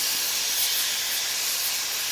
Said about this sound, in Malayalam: ഇനി ഇത് നമുക്ക് നന്നായിട്ടൊന്ന് മൂടി വെച്ചിട്ട് ഒരു 2 വിസിൽ വരെ വേവിക്കാം.